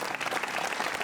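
Applause from an audience at a lecture on Sardinia, a brief burst of dense, lively clapping from many hands.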